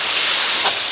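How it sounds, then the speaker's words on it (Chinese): Cooking wine splashes onto the hot side of a wok holding pork fried with ginger, star anise and chili bean paste, giving a brief, loud, steady hiss. "锅边给它淋入料酒，去腥增香"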